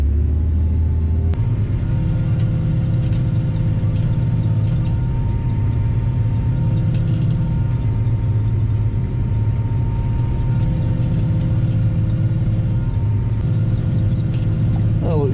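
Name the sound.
tractor pulling a seed drill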